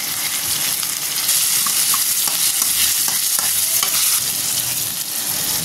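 Seeds tossed into hot oil alongside ginger, garlic and salt crackle and sizzle steadily in a pan, a dense, close frying hiss with small pops and stirring scrapes throughout.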